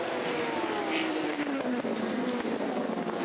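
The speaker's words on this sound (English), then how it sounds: "race leader LMP2 coming down into the left-hander Indy" An LMP2 prototype race car at Le Mans drones past with a steady engine note that falls slowly in pitch as it heads into the left-hand Indianapolis corner. The pass is loud and continuous, and no one speaks over it.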